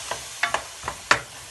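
Tomato and four green chillies frying in a pan for a radish bhujiya, stirred with a spoon that gives a few short scraping clatters over a soft sizzle.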